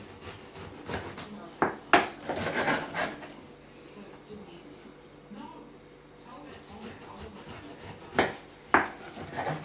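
Partly frozen ribs are cut with a sharp knife, giving rough rasping, sawing strokes and a few hard knocks against a board, in bursts near the start and end, close by, with a voice talking over parts of it.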